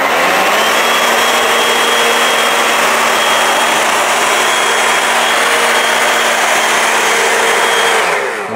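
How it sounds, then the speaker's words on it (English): A loud, steady leaf blower roars continuously with a constant whine, running at full power to dry a car before cutting off at the end. "it makes it so easy to dry these cars with leaf blowers"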